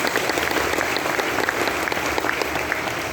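A church congregation claps steadily and loudly, dense applause sustained throughout with no talking on top.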